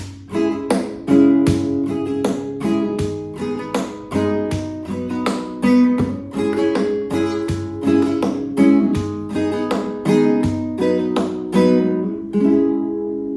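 A fingerpicked acoustic guitar pattern, with regular right-hand percussive slaps on the body woven into the plucked chords, steady and close, no voices.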